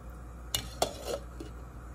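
A spoon clinks against a cooking pot of tomato, okra and corn soup, with a couple of sharp metallic knocks and faint scraping as it is stirred and the lid is handled, close and quiet.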